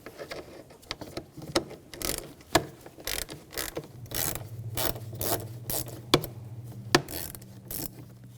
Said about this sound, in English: I'm going to take this bolt out. Use a Hex socket.